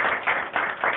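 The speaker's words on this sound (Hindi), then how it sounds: "बहुत जोरदार भव्य स्वागत करता हूँ आपका, जोरदार तालियों के साथ भाई नरेश यादव" Applause welcoming a guest at a public gathering: a dense burst of many hands clapping at once, steady and fairly close, with no voices over it.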